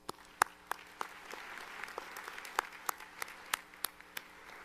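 Scattered applause from a commencement audience for the musicians, a sparse round of individual sharp claps, some close and loud, spaced irregularly over a soft background of distant clapping.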